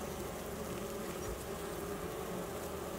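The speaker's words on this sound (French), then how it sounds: "On voit les abeilles qui nettoient les cadres." Honeybees at an open hive frame give a faint, continuous, even buzzing hum, heard alone.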